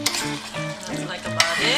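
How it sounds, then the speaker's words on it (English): A pot of Filipino pork menudo simmers with oil rising to the surface, giving off a close, steady sizzle and bubbling with light scraping and clinks of a utensil against the pot. "It's been simmering for 35 minutes."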